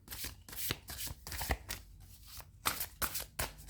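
A tarot deck being shuffled up close, a rapid riffling flutter repeated in several quick bursts with no talking.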